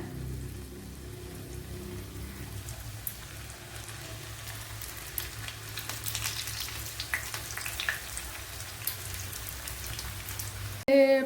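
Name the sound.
bitter gourd frying in hot oil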